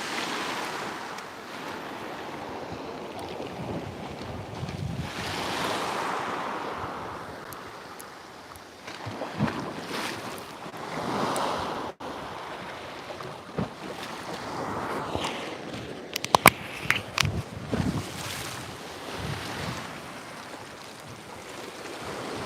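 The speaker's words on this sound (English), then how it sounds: "Just for you to hear a bit more of the water." Sea waves washing onto Batumi beach in Georgia, a continuous rolling surf with recurring swells and light wind buffeting the microphone, heard alone without talking.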